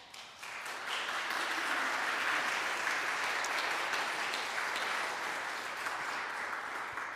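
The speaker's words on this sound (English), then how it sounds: "I think we owe all of those volunteers a round of applause." A church congregation at an annual meeting applauds volunteers, producing sustained, steady clapping that fills the room for several seconds without speech.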